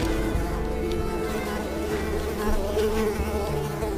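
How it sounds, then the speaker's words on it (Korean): Mosquitoes buzz continuously in the Unravel video game, a dense, steady, close insect whine filling the whole stretch alongside faint game ambience. "모기가 너무 많아. 더러운 모기가."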